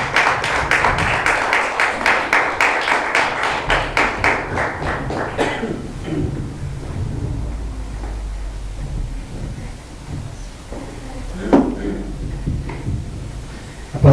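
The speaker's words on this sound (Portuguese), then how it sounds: "Vamos receber o servo do Senhor com as palmas" Rhythmic unison clapping from a church congregation welcoming a pastor, steady beats for about five seconds, then fading into room noise and a speaking voice.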